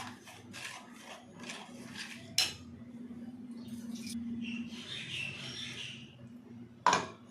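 Oil and masala being stirred in a cooking pot, with soft scraping and sizzling strokes, a couple of sharp clinks of the spoon against the pot, and low background hum.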